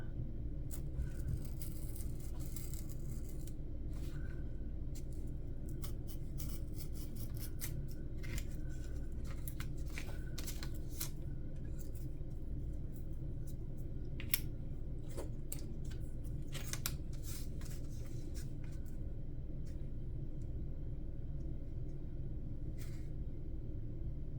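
Scissors cut out paper pieces, producing a steady run of quiet, close snips and rustles over a constant low background rumble, with no one talking.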